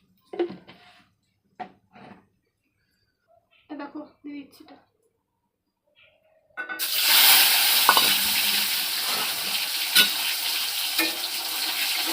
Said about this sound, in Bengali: ডিমটা ভাজবো তো সেই জন্য কড়াইতে তেল দিয়ে দিচ্ছি সর্ষের তেল